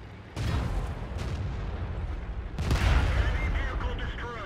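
A KV-13 tank in World of Tanks fires on a Tiger, giving a loud close cannon boom followed by a second heavy blast a couple of seconds later, over rumbling battle noise and a faint voice.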